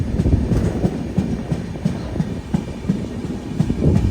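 Madgaon to Ernakulam Weekly Express train running, heard from inside a sleeper class coach: a loud, steady rumble with rhythmic clickety-clack wheel beats over rail joints throughout, no voices.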